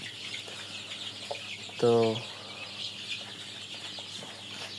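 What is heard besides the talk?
chickens clucking on a small poultry farm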